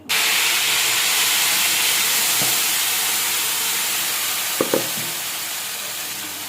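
Curry leaves fry in hot oil for a tomato pickle, giving a loud, steady sizzling hiss that fades slightly over time, with a few faint knocks of a utensil in the pan.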